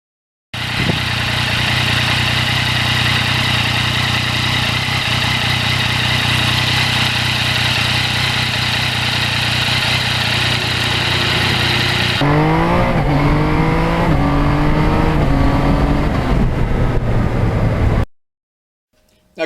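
2020 Yamaha MT-09 ridden on a test ride, the engine droning steadily under heavy rushing wind before a series of rising and falling revs through the gears, loud and close, then cutting off.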